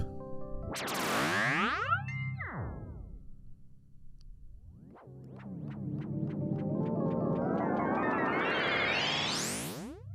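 Analog-style delay with high feedback, its echoes sweeping up and down in pitch as the delay time shifts, producing swooping, boinging repeats and a rising whine that climbs to a shrill peak before cutting off; no voices.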